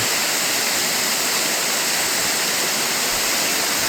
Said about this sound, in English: But there's the waterfall.